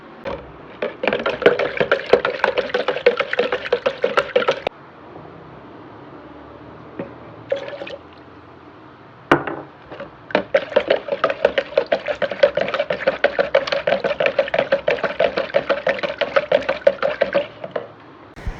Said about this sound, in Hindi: अब इसमें चीनी डालूँगी और हल करूँगी